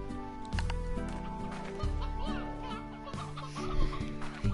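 A chicken clucks in the farming video game Slime Rancher, a few short clucks close and clear over steady, tonal game music.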